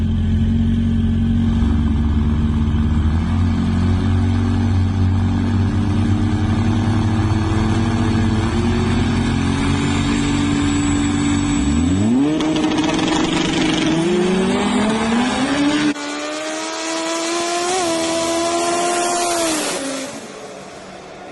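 All-wheel-drive cars in a no-prep drag race final, one a diesel, launch hard with roaring engines that climb through rising gear pulls and fade away, loud and close.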